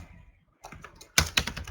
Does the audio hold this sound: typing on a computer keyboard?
yes